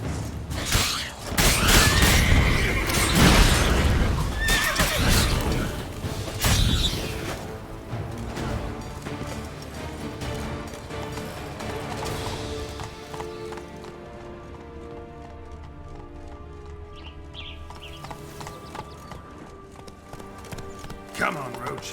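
Roach, the horse in The Witcher 3: Blood and Wine, gallops with loud, rapid hoofbeats that later ease into quieter, sparser steps over game ambience, with voices talking at times.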